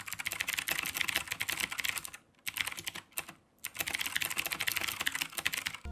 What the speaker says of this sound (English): blue switches. They're loud as heck, but they sound so productive.